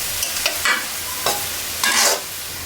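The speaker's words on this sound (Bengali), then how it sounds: "সেই তেলেই বেরেস্তা করে নিব" Thinly sliced onions fry in oil for beresta for beef tehari, a close, steady sizzle broken by a few brief scraping stirs, with no voices.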